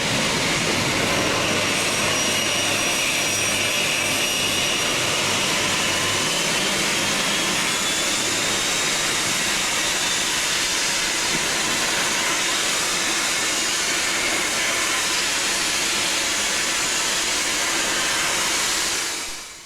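A loud, steady diesel roar with broad rushing noise holds for about twenty seconds as a Class 43 diesel high speed train passes close by on a westbound service near London in 2003, with no talk.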